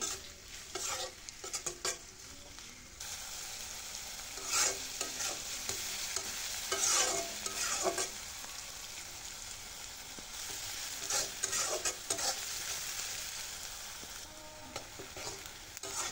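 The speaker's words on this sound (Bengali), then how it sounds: "এখন পেঁয়াজটাকে হালকা ব্রাউন কালার করে ভেজে নিচ্ছি" Three chopped onions frying toward light brown in a pan, a continuous close sizzle with frequent scraping stirs at irregular intervals over a long stretch and no talking.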